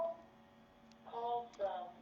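A telephone rings indoors during a bead-and-cord jewelry-making session, two short warbling electronic bursts of ringing, moderately loud over a faint background hum.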